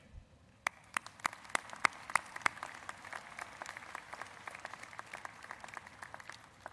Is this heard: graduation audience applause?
yes